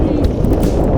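Strong gusty wind buffeting the microphone on an industrial canal during kayak fishing near Biloxi, Mississippi, a loud, steady low roar with brief surges and no clear speech.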